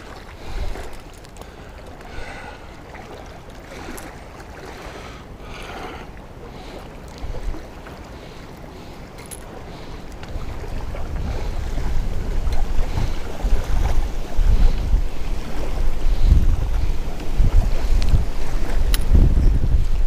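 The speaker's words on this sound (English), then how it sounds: "this is getting windy as shit out here" Strong wind gusts across an open reservoir, roaring and buffeting the microphone with a deep, continuous rumble that grows louder and rougher in the second half, with no talking.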